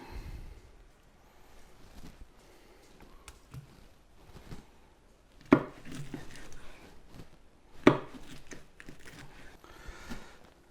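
A knife cuts through smoked spicy vinegar spare ribs on a board, with soft slicing and a couple of sharp chops striking the surface amid quiet handling sounds.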